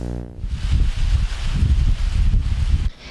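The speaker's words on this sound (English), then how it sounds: "The wind rustles the corn." Wind rustling dry corn stalks in a Kansas corn maze in fall, a close, loud, continuous papery rustle with low gusty rumble that cuts off near the end.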